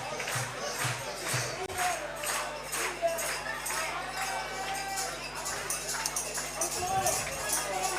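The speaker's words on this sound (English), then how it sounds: "Good crowd making good noise." Crowd at a baseball game between the Brisbane Bandits and Sydney Blue Sox, steady broad cheering and babble from the stands with scattered claps, a commentator talking over it.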